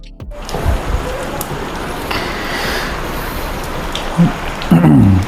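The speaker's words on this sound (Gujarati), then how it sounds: "આવી રીતે ચાલુ જ છે વરસાદ બંધ થતો જ નથી" Heavy rain pouring down in Gandhidham, a steady broad wash of downpour heard from indoors, with a brief tonal horn-like sound rising over it near the end.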